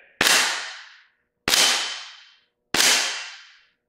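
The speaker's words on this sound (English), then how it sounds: "So steel plate targets, here we go. We have to shoot all of them for them to reset." Three sharp, loud metallic shots from a KWA adaptive training pistol ring out at steady intervals, each striking a steel plate target with a bright clang that decays over about a second.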